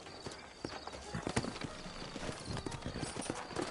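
Horses' hooves clip-clop steadily in Red Dead Redemption, the video game set in New Ulster, a dense run of close, sharp hoof strikes with an occasional faint whinny over an outdoor ambience.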